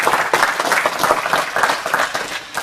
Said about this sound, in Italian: Grazie Loris, l'applauso è doveroso, ma vale.